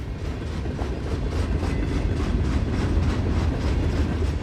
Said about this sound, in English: he arrived in Russia on an armored train